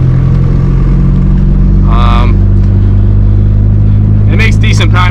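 Small turbocharged Honda D-series engine car with a blown second gear, droning steadily at low pitch throughout with a constant loud rumble; a voice cuts in briefly near the middle and again at the end.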